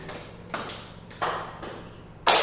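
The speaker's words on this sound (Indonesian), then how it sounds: "Tepuk 5 kali." A set of about five hand claps during a civics lesson, spaced unevenly in a quiet room, each a crisp slap with a short echo, moderately close.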